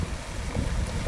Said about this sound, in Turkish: Şu an su sesine doğru gidiyorum.